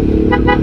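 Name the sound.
vehicle horn honking, likely in a video game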